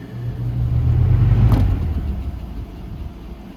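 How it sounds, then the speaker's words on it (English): Lasko Ultra Force box fan, model 3750 from 2000-01, with its rotor and bearing scraping together, giving a low steady rumbling drone that swells and fades, near and fairly loud, with no talk. "The rotor and the bearing scraping together."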